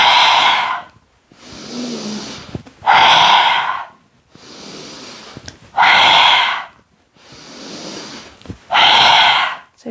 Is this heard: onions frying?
no